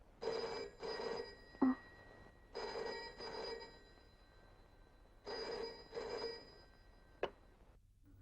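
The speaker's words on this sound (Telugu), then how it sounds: "మా ఇంట్లో ఓ అర్ధరాత్రి ఫోన్ మోగింది" A telephone rings at midnight in a home in Hyderabad, with three paired bursts of ringing separated by pauses, fairly quiet and heard alone, with a couple of faint clicks between rings.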